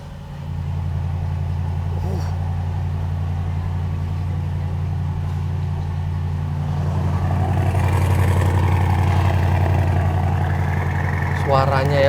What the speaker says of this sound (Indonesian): begitu cold start itu suaranya tuh bergemuruh